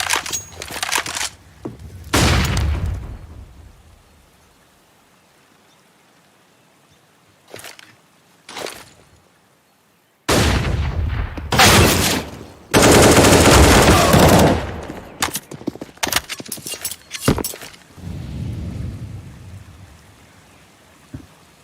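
Grenade blasts and gunfire in a competitive Counter-Strike match, heard as loud broadband bursts and crackling volleys separated by quiet gaps, some long and roaring, others short and sharp.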